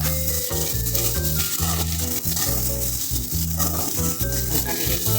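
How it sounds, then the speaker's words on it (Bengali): Capsicum, tomato and green chilli being stirred into browned onions frying in a pan for chilli chicken, a loud continuous sizzle broken by repeated scraping, clattering strokes of a spatula. "এরপর আমি ক্যাপসিকাম, টমেটো আর কাঁচা লঙ্কা দিয়ে হালকা নেড়ে করে নেব"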